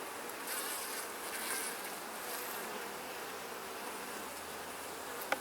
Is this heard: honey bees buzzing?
yes